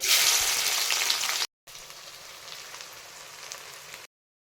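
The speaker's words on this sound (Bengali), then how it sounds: "পেঁয়াজটিকে ভেজে নেবো ভালো করে" About three hundred grams of chopped onion frying in hot oil with whole garam masala for a desi chicken curry, giving a steady close sizzle that is louder at first, broken by a brief silence and then resuming more quietly.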